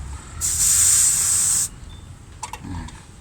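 A sharp burst of air purged from an air conditioner's refrigerant line hisses loudly for about a second, then cuts off, followed by a few faint clicks and small metallic sounds.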